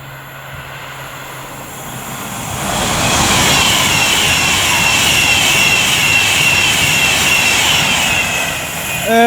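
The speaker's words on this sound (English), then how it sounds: "we also have approaching 392114 for Avanti West Coast, working 1 Mike 14 from Glasgow Central to London Euston" An Avanti West Coast electric train, unit 392114, approaches and passes at Lichfield Trent Valley on the West Coast Main Line, a rising rush and rumble building to a loud sustained roar of wheels and air before easing slightly at the end.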